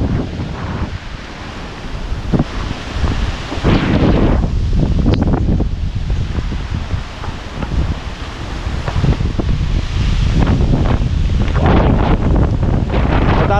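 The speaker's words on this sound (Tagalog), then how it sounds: "Tinutulak ako ng hangin, ang lakas." Strong typhoon wind gusting outdoors after landfall, a loud, continuous roar with heavy buffeting on the microphone, surging and easing in waves throughout with no voices.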